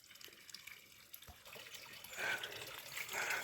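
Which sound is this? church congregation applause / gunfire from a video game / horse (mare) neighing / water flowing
water flowing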